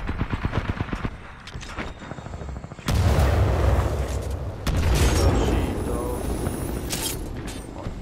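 Gunfire in the Titanfall 2 video game: scattered shots at first, then a sudden loud burst of heavy rapid fire and booms that sustains to the end, with a voice speaking briefly early on.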